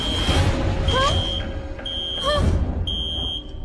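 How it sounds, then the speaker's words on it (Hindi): Cartoon alarm beeping in repeated steady high tones, about four bursts with brief gaps, loud over a busy background with rising whistle-like sweeps. "ये लो जी, अलार्म बजने लगा।"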